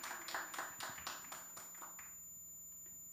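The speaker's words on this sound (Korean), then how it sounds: "여러분 큰 박수 한번 보내주시죠" About eight sharp claps ring out in an even rhythm for a singer at a small live show, then fade into quiet room tone.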